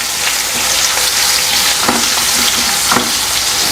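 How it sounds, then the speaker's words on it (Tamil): Crushed garlic cloves, skin still on, sauté in a hot pan for a curry leaf thokku, giving a steady, close sizzle and crackle with occasional stirring scrapes and no talking. "கொஞ்சம் அந்த பூண்டில் இருக்கிற ஈரப்பதம் வத்துற அளவுக்கு நம்ம வதக்கிடலாம்."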